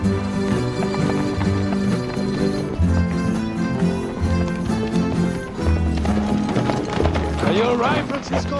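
Horse hooves clip-clop along steadily under a dense bed of music, with a voice speaking briefly.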